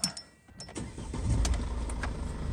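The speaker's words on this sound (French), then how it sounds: "On va mettre un coup de clé ensemble." A warm engine on a converted bus is started with the ignition key: a click, a short crank, then the motor catches and settles into a steady low rumble close by.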